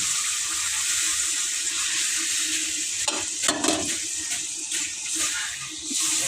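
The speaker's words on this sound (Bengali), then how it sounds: "সিদ্ধ করে সেই জলটা ছেঁকে রেখেছি এই জলটাই দিয়ে দেবো" Strained potato boiling water poured into a spiced potato curry frying with masala: a continuous hissing sizzle with watery splashing and a few clinks midway, close and steady throughout.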